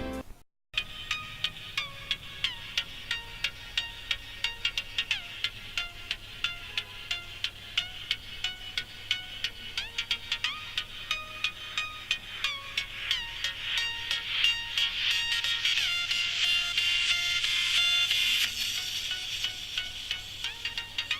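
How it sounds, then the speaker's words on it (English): A music track plays through Reewo Hyperbass in-ear earphones and is picked up by a microphone. It sounds thin and fairly faint, with a regular, steady beat that grows a little fuller past the midpoint. "Now I'll play an audio track from my phone and will record it on the mic"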